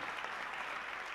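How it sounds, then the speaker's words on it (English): An audience at a ventriloquist show claps in a brief, even burst of applause, a dense wash of hand claps with no voices over it. "Come on, let's hear it for Johnny."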